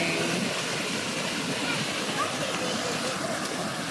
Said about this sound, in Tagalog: lakas ng current ng tubig